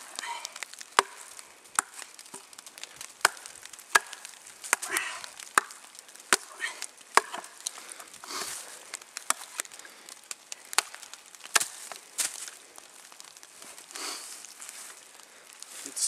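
Sharp knife blades knock and crack into a knotted log as wedges, splitting it; repeated close chops and snaps come in an irregular rhythm, with faint crackling of the splitting wood between strikes.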